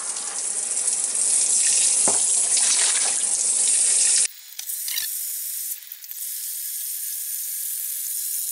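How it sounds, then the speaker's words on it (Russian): Hot water from a shower streams loudly and steadily for about four seconds, then cuts to a quieter, thinner flow with a brief clunk, while sugar-water is being prepared for a yeast starter. "Вот, душ, включил горяченькую и побежала."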